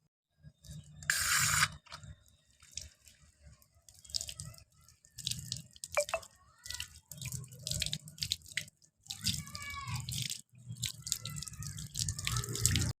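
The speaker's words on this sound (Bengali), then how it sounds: "বেলপাতাগুলো ধুয়ে দিই কলে" Bel leaves being washed under a water tap, with intermittent bursts of running and splashing water, dripping and soft handling sounds separated by short quiet gaps.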